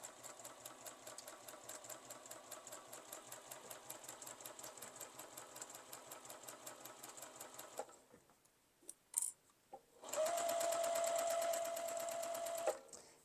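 A sewing machine stitches an iPad case seam in a fast, steady patter for several seconds, pauses with a few clicks, then runs again in a smoother, higher whir while back stitching.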